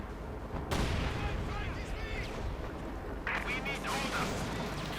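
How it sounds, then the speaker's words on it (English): Artillery barrage in the Company of Heroes 2 strategy game, with rapid overlapping blasts and sharp cracks bursting across the front, fairly faint under game effects and a voice talking. "Basically fires the artillery all across the front."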